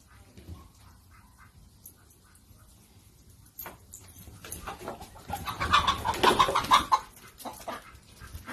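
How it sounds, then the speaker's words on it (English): Chickens clucking and squawking, growing louder and busier toward the end, with rustling and movement nearby. "Sally, go put the chickens away."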